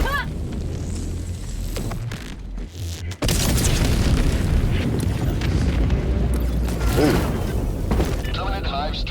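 A Hellbomb detonates in the video game Helldivers 2 with a heavy boom and sustained rumbling blast, loud and close, with a brief lull before a roaring surge as a voice speaks over the noise.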